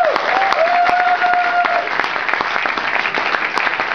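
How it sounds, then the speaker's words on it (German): A theatre audience at a Christmas comedy show bursts into loud, sustained applause, dense clapping close by, with a brief whistle near the start. "ich bitte um einen tosenden Applaus, Helmut!"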